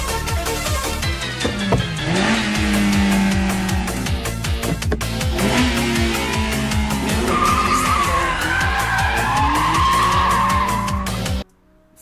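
Keiichi Tsuchiya's drift car howls through a slide, its engine revving hard with rapid rhythmic pulses while the tires squeal loudly and continuously, close and intense, before cutting out abruptly near the end.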